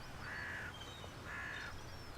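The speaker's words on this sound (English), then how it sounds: "Like most other corvids, hooded crows are highly intelligent." Hooded crows on a tidal bay near Kinloch on the Isle of Rùm give two drawn-out, hoarse caws about a second apart, clear against a steady outdoor background.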